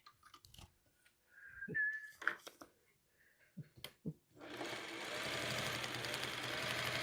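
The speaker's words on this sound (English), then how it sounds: "Line them up, sew them down." A sewing machine stitching a quilt block for a psychedelic snowflake pattern whirs steadily and close up for the final few seconds, after brief handling clicks and rustles.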